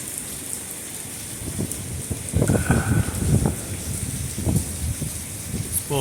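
Rain drums on a tarp during a windy storm, irregular loud spattering bursts and flapping over a steady hiss, growing heavier after the first couple of seconds.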